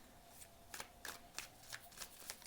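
A deck of tarot or oracle cards being shuffled, with a run of crisp riffling bursts spaced roughly evenly, close and fairly quiet, and no talking.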